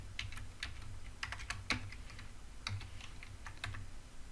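Fast, continuous key clicks on a computer keyboard, heard nearby over a low steady hum, with bursts of quick strokes and brief pauses and no talking.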